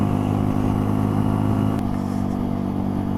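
A 2018 Mutt Fat Sabbath 125 motorcycle cruises steadily on a fast dual carriageway, its engine holding a constant droning hum with wind rush and no talking.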